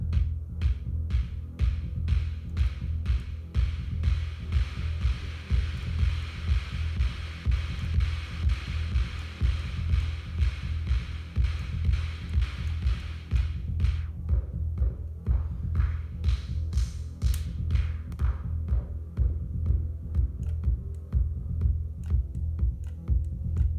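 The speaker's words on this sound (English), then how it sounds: "noise generator" A Sonic Charge Microtonic drum synthesizer pattern with deep, regular thumping and a hissy noise-generator layer on top that drops out partway, then returns.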